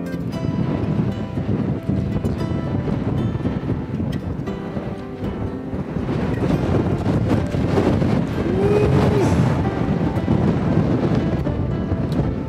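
Strong gusts buffet the microphone on a hiking trail along the Pacific Crest Trail between Campo and Julian, a loud, continuous roar of wind filling the whole stretch with no break.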